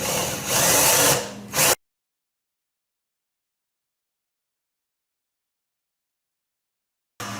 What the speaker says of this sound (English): we're going to go ahead and drill these other holes